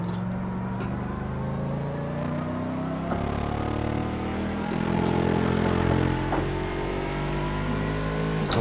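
Steady engine drone from a car in a VR racing video game, a continuous mid-loud hum with harmonic tones that rise slightly as it accelerates, with no talking over it.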